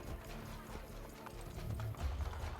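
Horse hooves clip-clop in a steady, faint rhythm in Assassin's Creed Brotherhood, the quiet in-game trotting running alone with soft ambient noise beneath.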